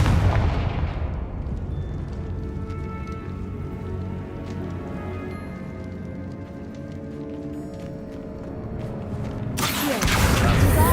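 A Confringo blasting spell bursts in a Harry Potter video game with a loud, sharp explosion that decays into crackling debris and rumble, then a second forceful blast hits at the very end.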